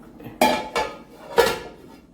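Metal lid clatters onto a pot of spicy chicken curry, a sharp clank followed by two more lighter knocks as it settles, close and alone in a quiet kitchen.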